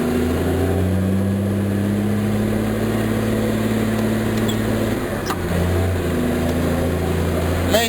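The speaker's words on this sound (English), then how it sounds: "like the engine screaming." A Cat 730 rock truck engine revs hard and steadily at close range, a loud sustained drone with a brief dip near the middle before it climbs again.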